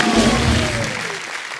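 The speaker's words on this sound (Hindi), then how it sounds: "एक बार जोरदार तालियां स्पाइडरमैन के लिए।" Studio audience clapping for a costumed Spider-Man's entrance on a comedy talk show, a dense burst of applause that stays steady and fairly loud throughout, with music or voices faintly mixed underneath.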